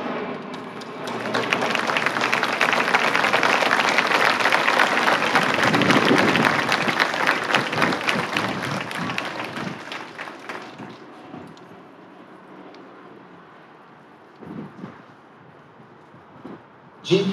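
Standing audience at a senior convocation of a preparatory academy breaks into sustained applause as board members take the stage, loud and dense for about ten seconds before thinning to scattered claps and stray noises.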